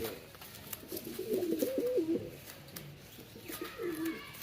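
A male pigeon on a farm coos in repeated low, rolling phrases, close and fairly quiet, with a short pause before another coo near the end.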